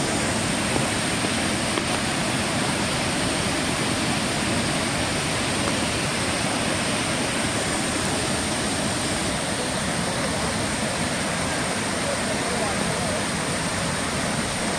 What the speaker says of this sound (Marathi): हा बघा केवढा जोरात आवाज येतोय आणि हा प्रपात कोसळतो आहे